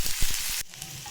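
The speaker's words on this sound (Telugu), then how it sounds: "పచ్చిమిరపకాయలు, ఆనియన్ అంతా బాగా ఫ్రై అవ్వాలండి." Green chilies and onions sizzle in a pan, a steady broadband fry for about half a second with a few faint stirring knocks, then the sizzle drops to a quieter hiss.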